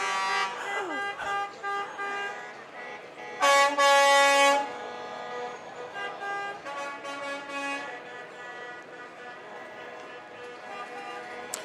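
A Kenworth logging truck's air horn blows repeatedly at a parade, with long, loud, blaring blasts, the strongest near the middle, followed by further sustained honks.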